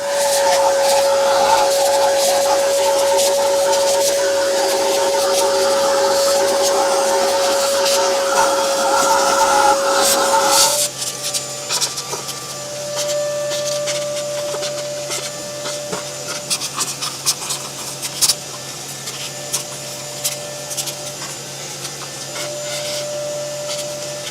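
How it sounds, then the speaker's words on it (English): A vacuum cleaner whines steadily and loudly while cleaning out a seized BMW engine left sitting for 30 years, then its pitch drops and it turns rougher with scraping, rattling suction noises as it works. "I think what we need to do is give this engine a good vacuum."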